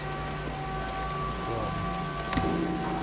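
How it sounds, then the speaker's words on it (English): Rain falls steadily in the Snowrunner off-road truck video game, a constant hiss of drops on surfaces with a faint engine hum beneath and a brief sharp crackle near the end. "It's raining, it's pouring."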